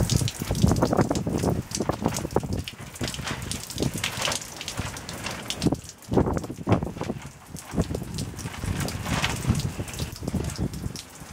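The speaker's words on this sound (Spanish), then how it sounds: "Voy a vaciar alguna bandeja mediante una manguera" Water draining from a flooded tray through a hose, a steady loud gushing rush that runs continuously with brief dips, close to the outflow.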